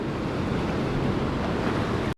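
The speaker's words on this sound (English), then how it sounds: "I think I can actually move out where these waves are just crashing now" Ocean waves crash continuously on the Oregon shore at low tide, a loud, dense wash of surf mixed with wind buffeting the microphone, with no talking.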